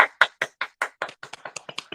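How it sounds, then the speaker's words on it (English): A small group at a morning show claps hands together in a quick, uneven burst of sharp slaps, about a dozen in under two seconds, close and clear with no talking. "Let's clap."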